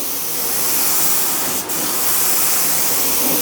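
A Graco HVLP 9.5 spray gun sprays water-based finish in a small workshop, giving a loud, steady, close-up airy hiss that runs almost unbroken, with one very brief dip partway through.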